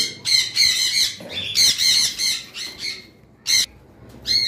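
Sun conure parrots squawk in sharp, shrill bursts, several loud calls in quick succession with short gaps, close by and with no talk over them.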